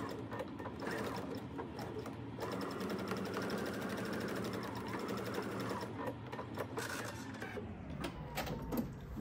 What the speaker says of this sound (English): I'm just gonna sew right across the edge there